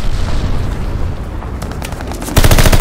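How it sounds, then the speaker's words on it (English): An enemy glide bomb in the Call of Duty: Vanguard video game lands with a loud, booming burst near the end, after a steady rumble of gunfire and explosions in the battle. "Got an enemy glide bomb on the way."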